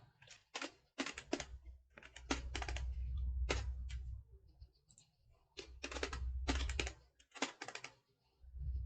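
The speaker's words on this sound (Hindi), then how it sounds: "सबसे पहले हम कुछ टाइप कर लेते हैं, HTML ट्यूटोरियल्स।" Typing on a computer keyboard while entering text for an HTML tutorial, close, crisp key clicks in quick irregular runs and pauses, over a low background hum.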